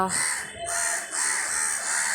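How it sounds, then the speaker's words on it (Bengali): A gathering of crows cawing, with a few harsh, drawn-out caws following one another in a short burst at moderate distance. "কাকগুলো এই যে কাকেদের সভা বসেছে ডেকে যাচ্ছে"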